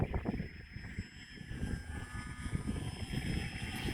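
A Whippit radio-controlled model airplane drones overhead at moderate distance, its small propeller motor humming steadily with wavering loudness as it passes, and no talk over it.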